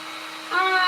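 A hand-held dryer whirs on a chalk-painted spring lamb shelf-sitter craft, a steady close hum that grows louder partway through the brief moment.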